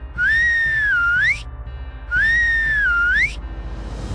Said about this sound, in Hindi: अचानक जंगल के अंदर से सीटी की एक बहुत धीमी आवाज आई।